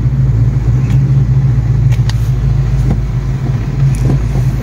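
A Foxbody 5.0 Mustang with a manual transmission rumbles past nearby, a deep steady engine drone with low throbbing exhaust and no talking.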